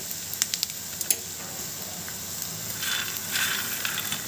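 Peanuts frying in a pan for a peanut chutney, giving a steady close crackle and sizzle with scattered sharp pops and a brief hissing swell near the end, no voices.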